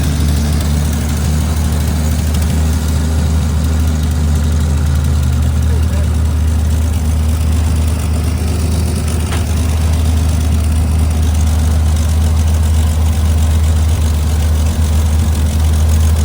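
An abandoned 1955 Chevy 3200 truck, started after fifty years of sitting, idles with a completely rusted-out muffler, giving a steady, rough low rumble that runs unbroken throughout.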